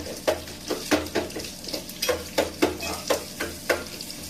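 Onions with a few curry leaves sizzle in a pot while a spoon repeatedly stirs and scrapes against the metal, about eight rhythmic strokes over a steady frying hiss, close and distinct.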